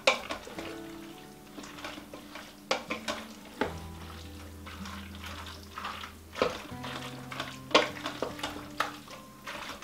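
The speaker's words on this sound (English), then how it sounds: "I'm going to give these a little bit of a quick stir" Tomato paste being stirred for sloppy joes inside an Instant Pot, with irregular scraping and knocking strokes close by over a steady low hum and a faint sizzle.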